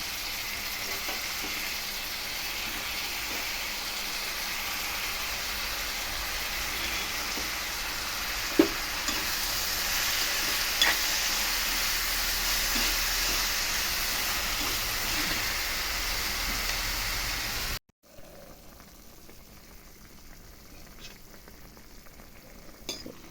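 Pulichinthaku leaves cook with tomatoes in a pan, a steady, close sizzle of frying and steaming with occasional stirring clicks, running continuously before cutting to a quieter, fainter simmer.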